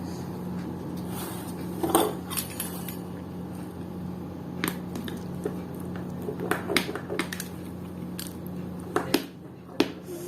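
Baked lasagna topped with melted cheese is cut in its dish: sparse, sharp clicks and taps of a utensil against the dish, with soft squishy cuts between them, close and fairly quiet over a faint steady hum.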